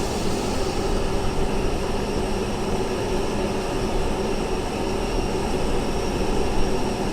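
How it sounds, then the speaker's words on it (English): Steady, continuous jet engine roar of a plane taking off at Ibiza airport in Microsoft Flight Simulator 2023, a constant broadband rumble with no talking. "there's a plane taking off in the background"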